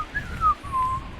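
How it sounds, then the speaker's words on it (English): A person gives a faint, thin whistle: one wavering tone that slides down, breaks off and then holds, with low room noise underneath and no talking. "that was a weak whistle."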